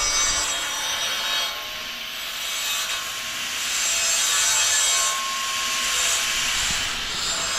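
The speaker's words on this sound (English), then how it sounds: "Cutting the frames." Solar panel support frames for a sailboat being cut with an angle grinder, a continuous high, bright grinding whine that swells and eases slightly in pitch and loudness over several seconds, close and alone.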